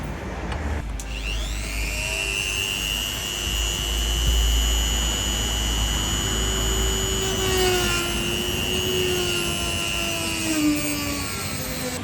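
Dremel rotary tool cutting braided AN10 line for an Audi A3 8P catch can install, a loud high-pitched grinding whine that keeps shifting in pitch as it bites, continuous and close, with no speech.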